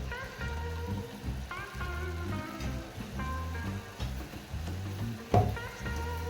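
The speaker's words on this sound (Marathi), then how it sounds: "तेल सुटेपर्यंत आपल्याला सतत हलवत राहावी लागणार आहे" Chole gravy fries in oil in a pan while being stirred continuously, with rhythmic scraping strokes over a steady close sizzle and one sharp clank of the spoon near the end.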